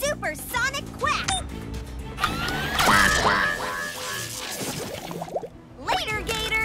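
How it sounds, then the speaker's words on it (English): A cartoon duck lets out a supersonic quack aimed at alligators, a loud, distorted, sweeping blast that rises and warbles for several seconds, with cartoon voices before and after it. "Supersonic quack!"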